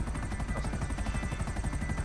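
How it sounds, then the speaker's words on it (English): A business helicopter in a GTA game flies close and loud, its rotor giving a rapid, even thudding pulse over a constant engine whine, with nothing else heard. "It's a business helicopter, so it doesn't cost anything to blow out."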